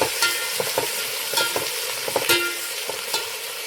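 A spoon scrapes and stirs tomatoes, green chillies, coriander and curry leaves in a hot pan for mutton pulao, with irregular clanks over a soft, steady sizzle and no talking.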